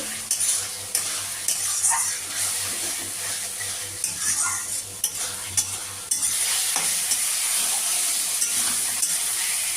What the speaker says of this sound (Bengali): মশলাটাকে আমি কষে নেবো